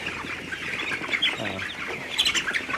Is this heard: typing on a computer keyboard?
no